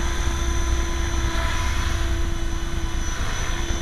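A 450-size RC model helicopter flies outdoors in a light breeze with a steady, loud rotor and motor whine. The drone is constant throughout and sounds fairly close, with wind noise under it.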